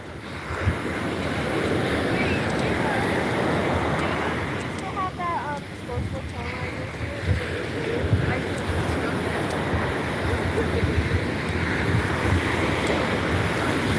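Ocean waves roll and wash steadily at close range with gusty wind buffeting the microphone, a constant broad roar that dips briefly midway before surging again.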